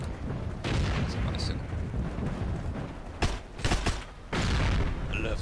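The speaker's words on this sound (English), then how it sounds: "I love the sounds of explosions in the morning." Heavy explosions and artillery fire in the World War II shooter game Heroes and Generals, rumbling booms and sharp blasts rolling one after another, loud and dense, with no voices over them.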